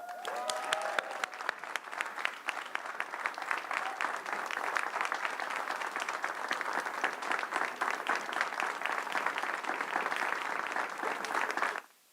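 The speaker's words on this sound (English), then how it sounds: "Can we give Erica another round of applause?" Sustained, dense audience applause fills a large hall at a Milwaukee County State of the County address, steady and loud for about twelve seconds before cutting off abruptly.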